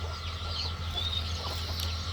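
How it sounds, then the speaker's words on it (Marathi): A farmyard hen with chicks clucking, soft close clucks and chirps scattered over a steady low background hum, with no one speaking. "आम्ही हे पिल्लेवाली पि कोंबडी सोडून ठेवतो बाहेर"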